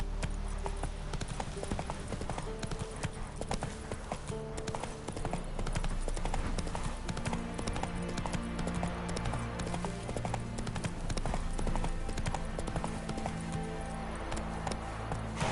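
Hoofbeats of Roach, the Witcher 3 video game horse, galloping in a steady, loud rhythm of clip-clop that lasts throughout, layered over game music and ambience.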